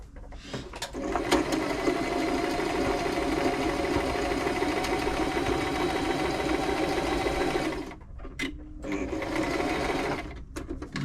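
A Toyota Oekaki RS2000 sewing machine runs a straight stitch with a steady, close motor whir, pauses briefly, then starts again.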